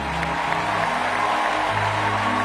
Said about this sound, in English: Keep clapping till I ask you to stop.